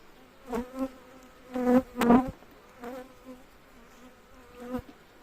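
Honey bees buzz around a spring-split beehive in spring, with individual bees droning close past in short, loud swells over a quieter background hum.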